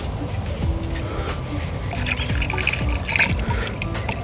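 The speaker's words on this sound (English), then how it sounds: "Let me just wash this out into the tank here." Water rinses fungicide premix into a sprayer tank with a steady close trickling and filling sound, bubbling and splashing more as it goes on.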